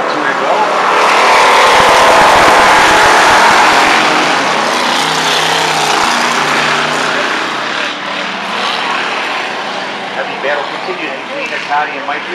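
Race cars in a heat roar past in a bunched pack, a loud sustained engine drone that swells and fades, with an announcer talking over it throughout.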